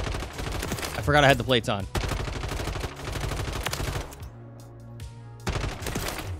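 Rapid automatic weapon fire in Modern Warfare 3, a fast stuttering burst of shots running almost continuously under game music and effects, with someone talking over it at points.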